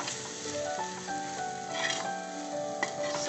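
Prawn curry with Kashmiri chili stirred in a pan, a soft sizzle under light scraping and tapping of the spoon, fairly quiet and close, with no talking.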